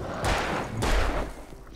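Gunfire in the video game Alan Wake: two broad, loud bursts of shots about half a second apart, each trailing off, followed by a brief quieter crack near the end.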